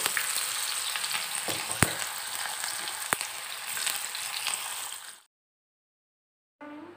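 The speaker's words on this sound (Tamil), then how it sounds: "ஹை ஃப்ளேம்லேயே வச்சு ஃப்ரை பண்ணுங்க" Cauliflower pakoda pieces fry in groundnut oil over a high flame with a loud, dense, continuous sizzle. It cuts out abruptly into silence, then the bubbling hiss resumes.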